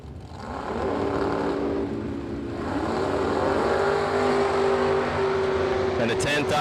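Drag race cars, including a GTO, roar down the strip at a race event, a loud sustained engine note rising in pitch as they pull away, with an announcer talking over it.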